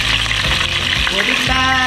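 Onions frying in a hot pan for beef liver bistek, a steady loud sizzle with stirring noises and faint talk in the background.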